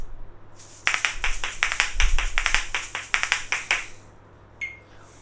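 An asalato plays a rapid run of sharp clicks on the thumb side in a quick steady rhythm, about a dozen crisp hits, then it stops, leaving a faint background hum.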